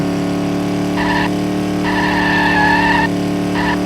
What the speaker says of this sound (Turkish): Lastik sesi.